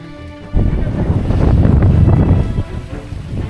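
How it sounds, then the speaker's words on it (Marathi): Strong gusting wind on the Naneghat mountain pass buffets the microphone after a brief quiet start, a loud rumbling roar that swells and eases over a few seconds. "पाहू शकता किती जोरात असं भन्नाट असं वारा सुटलेलं आहे"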